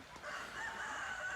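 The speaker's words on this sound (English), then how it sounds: "Shut up, rooster." A rooster crows once, a short loud call at moderate distance, heard alone without talk.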